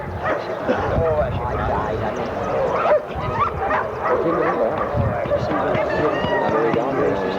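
A dog barks, yips and whimpers in repeated short bursts, fairly loud and close, mixed in with people talking over it throughout.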